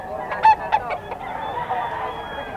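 A white Kelso bull stag rooster at a market gives several short, loud, honking calls in quick succession up close, followed by quieter murmuring background noise.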